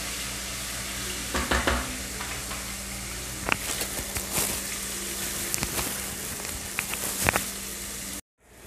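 Ginger garlic paste fries in hot oil, sizzling steadily and up close while a spoon stirs and scrapes in sharp bursts; no one talks.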